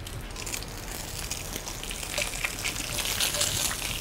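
An egg frying in a pan for asparagus Milanese, a steady hissing sizzle with crackling spatters that grows slightly louder toward the end, with no talk.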